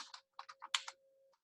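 Quick bursts of typing on a computer keyboard while writing linked-list code, close and crisp with short pauses between runs of clicks over a faint steady tone.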